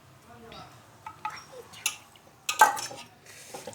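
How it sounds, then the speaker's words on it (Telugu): Biryani rice being mixed by hand with lemon juice and spices in a pot, soft scraping and a few light clinks of a utensil against the vessel, quiet and close, with someone speaking softly at times. "మంచిగా కలిపి ఆ రైస్ అయ్యేంత వరకు కలుపుతాను"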